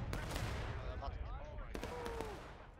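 Musket gunfire in a War of Rights video game battle, booming shots and distant volleys echoing over a constant low rumble, with faint whistling tones.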